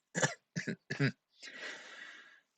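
A person coughs three short times in close succession, then draws a longer, breathy inhale, close and fairly quiet.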